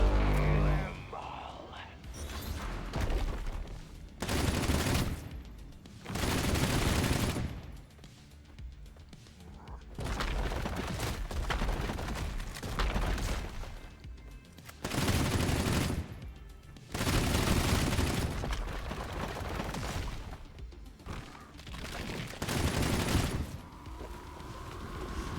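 Heavy-recoil gunfire in the roguelike video game Kiborg, coming in several loud bursts of rapid shots separated by quieter gaps, with a voice talking between and over them.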